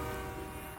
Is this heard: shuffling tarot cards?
no